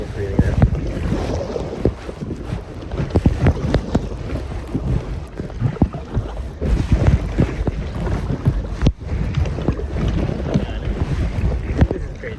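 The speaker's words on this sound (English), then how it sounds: "I'm just gonna paddle it." A kayak paddled through choppy water, with splashing strokes and sloshing waves under strong wind buffeting the microphone, fairly loud and irregular throughout.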